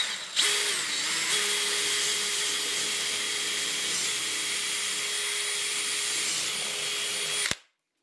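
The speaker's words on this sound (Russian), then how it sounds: "Для следующей самоделочки понадобится вот такой брусок 50 на 50 и сверлим отверстие." A drill bores a hole through a 50x50 mm wooden block with a 10 mm bit, a steady close whine that starts abruptly, runs evenly for about seven seconds and cuts off.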